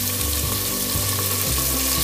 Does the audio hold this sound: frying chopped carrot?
yes